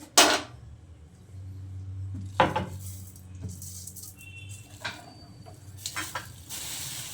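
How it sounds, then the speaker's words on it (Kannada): Mustard seeds crackle and sizzle in hot oil, tempering an ivy gourd stir-fry; faint scattered pops and a clatter of a pan or utensil sit over a low background hum, with no talking. "ಇವಾಗ ಸ್ವಲ್ಪ ಆಯಿಲ್ ಹಾಕತ್ತೀನಿ ನಾನು. ಅದಕ್ಕೆ ಸ್ವಲ್ಪ ಸಾಸಿವೆ ಹಾಕತ್ತೀನಿ"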